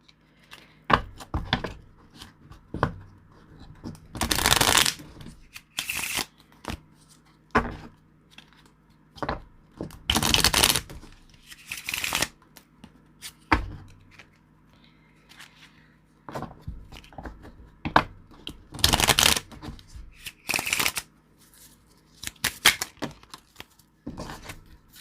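Tarot cards are shuffled by hand in repeated short riffling bursts, close and crisp, separated by quieter taps and card handling over about twenty-five seconds.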